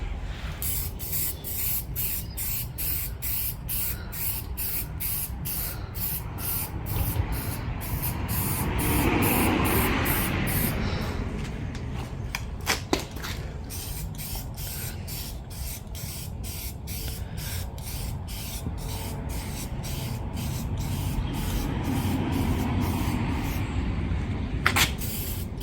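A spray paint can hisses continuously as it lays a thicker coat onto faded car plastic trim outdoors, a steady close spray with slight swells and brief pauses, no talking.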